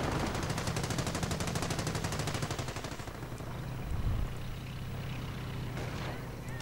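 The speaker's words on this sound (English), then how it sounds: "Another anti-tank gun fires on the German armor." Anti-tank guns firing on German armor in a World War II strategy game, a dense rapid rattle of gunfire for the first three seconds, then a deep thump near the four-second mark over a steady rumbling battle bed.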